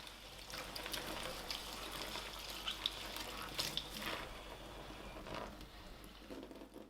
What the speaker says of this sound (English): so should simply be rinsed under the tap until the water coming out from the bristles runs nice and clean